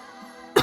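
A single short cough bursts out near the end after a quiet, faintly humming stretch, close and sharp from a young man recovering from a cold.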